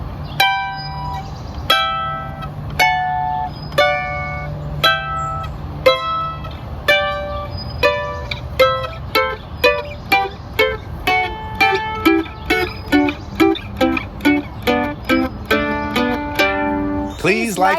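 A mandolin plays a skipper pattern scale in double stops, paired plucked notes ringing clearly and evenly, starting slow and spaced then quickening into a steady, faster run, heard alone up close.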